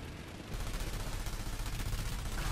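Rapid gunfire in the online shooter Planetside 2 during an infantry fight, a dense, continuous burst of automatic shots that grows louder after the first half second and stays loud to the end, with no talk.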